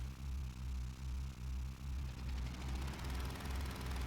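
Helicopter engine in the Final Fantasy VII Remake video game, a steady low rotor thump pulsing about twice a second over a constant droning whine, loud and close with no talking.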